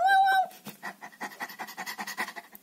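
A pet dog pants in quick, rhythmic breaths close by, after a short high-pitched whimper at the start; the panting continues steadily on its own without speech.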